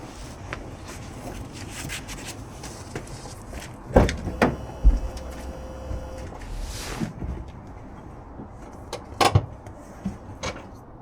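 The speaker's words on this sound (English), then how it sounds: "let's see what happens when I pull the handbrake and see if it doesn't touch the rear assembly now" A VW Beetle handbrake lever is pulled up during adjustment, giving a quick run of ratcheting clicks and a couple of close mechanical clunks, followed by scattered lighter knocks over a quiet workshop background.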